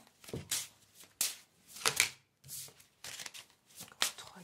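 Oracle cards being shuffled and handled by hand, a run of crisp riffling and slapping bursts with short pauses between them, close and fairly clear, with no voice over them.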